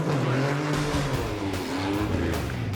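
A race car launches hard off the starting line on a drag strip, its engine roaring loud and close with a rising whine and tire noise for a few seconds.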